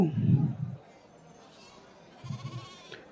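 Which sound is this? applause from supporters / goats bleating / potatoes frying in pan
goats bleating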